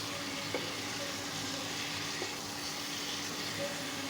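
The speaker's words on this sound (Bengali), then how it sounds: "ভালোভাবে মাখিয়ে মাখিয়ে ভাজা ভাজা করে এটাকে আমরা এখন কষিয়ে নিব।" Chicken and potatoes frying in a pan for achari chicken give a steady, close sizzle throughout, with a couple of faint clicks as they are stirred and no talking.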